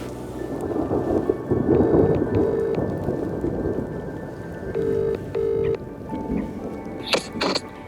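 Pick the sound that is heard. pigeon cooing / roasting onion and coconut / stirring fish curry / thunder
thunder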